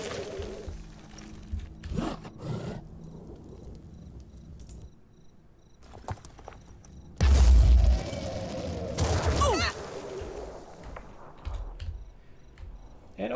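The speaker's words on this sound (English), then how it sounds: "I felt it was appropriate to deliver 4 grenades" Grenade explosions in the tactical game Phoenix Point, a few heavy booming blasts with one loud, deep burst in the middle, set among crackling debris and quieter pops.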